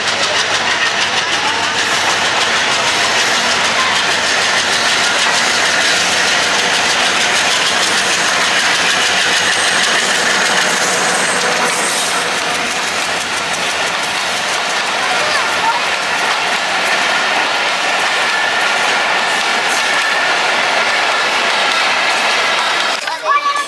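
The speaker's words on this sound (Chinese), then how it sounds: "又来一辆火车，冒黑烟的" A freight train trailing black smoke rolls along tracks in Bangladesh, a loud, steady engine rumble and rattle that stays heavy and continuous throughout before easing slightly near the end.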